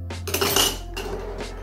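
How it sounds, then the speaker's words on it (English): A gin cocktail being strained into a coupe glass: light clinks and taps of metal and glassware, close by and fairly soft, with no one talking. "So now we're gonna strain everything into a cupette."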